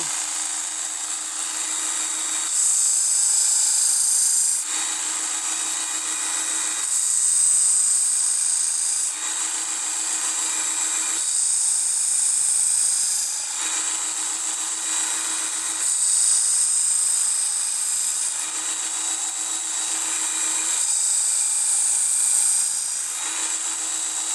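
Belt grinder sharpening a butterfly knife edge on new, tight belts, a steady high whine that swells and fades in repeated passes every few seconds, loud and close with no talk.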